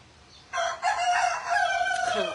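A single loud rooster crow rings out close by, strong and drawn-out, starting abruptly after a brief quiet moment.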